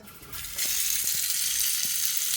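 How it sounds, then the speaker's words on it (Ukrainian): Water running steadily from a tap in a house, a broadband hiss that starts abruptly after a brief quieter moment and continues loud and close with a few faint knocks underneath. "тільки що взагалі не текло води, зараз тече"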